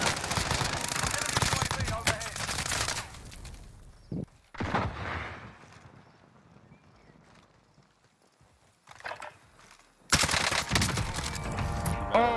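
Automatic gunfire and explosions from a Call of Duty: Warzone match, loud dense bursts at the start, a quieter lull with scattered shots, then another heavy burst of fire at the end.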